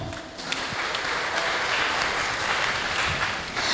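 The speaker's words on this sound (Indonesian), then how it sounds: "Tepuk tangan yang meriah untuk Bapak Anas Thohir." Warm, sustained applause from an audience at a BKKBN East Java program, greeting guest Anas Thohir as a dense, even wash of clapping that holds steady for several seconds with little voice on top.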